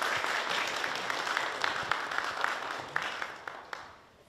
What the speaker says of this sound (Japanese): 改めて今一度盛大な拍手をお送りください。